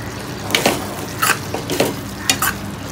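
Potato and long bean sabzi is stirred with garam masala in a pan, brisk spatula scrapes coming in short bursts over a light sizzle.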